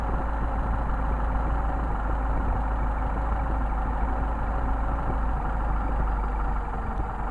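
A Mercedes 190SL engine with Solex carburetors idles during carburetor tuning, a steady, close, loud rumble with an even mechanical chatter and no talking.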